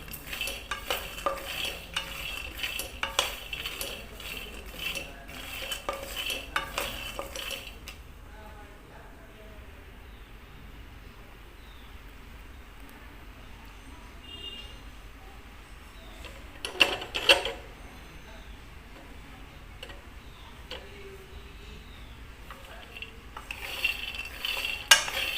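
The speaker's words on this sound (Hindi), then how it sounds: "तो हम मूंगफली को अच्छे से भून लेते हैं।" Peanuts being dry roasted and stirred in a pan over a low flame give steady scraping and rustling, busiest at the start, then a quieter stretch with occasional clinks and stirs.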